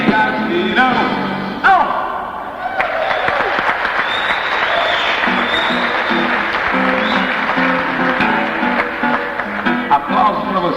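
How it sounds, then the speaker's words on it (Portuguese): A concert audience at a 1983 live show applauds steadily and loudly throughout, a dense continuous roll of clapping with crowd noise and some lingering music at the start. "Aplausos para vocês também."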